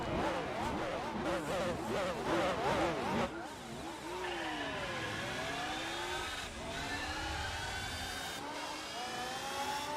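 Loud Alfa Romeo 147 engine in the Gran Turismo 4 racing game, revving hard through rising and falling gear changes, then settling into a steady high-pitched drone that climbs and dips across the run.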